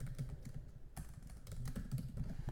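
Typing on a computer keyboard during an Android Studio Firebase tutorial, a steady run of close, quick key clicks with no speech.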